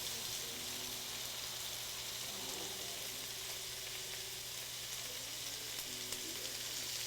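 Food sizzles as it cooks in a hot pan, a steady, even frying hiss that carries on without a break and with no voices over it.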